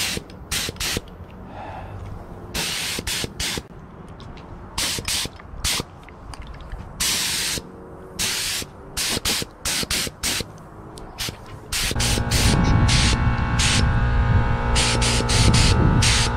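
Aerosol spray paint is applied to car suspension parts in bursts of hissing spray of varying length, some short and some sustained, then one long continuous spray near the end, close and loud with no talk.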